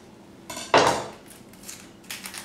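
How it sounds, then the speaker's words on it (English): A knife slicing a yellow onion in half on a cutting board, one sharp crunching cut followed by a couple of lighter taps and clicks, close and brief. "Cut the onion in half."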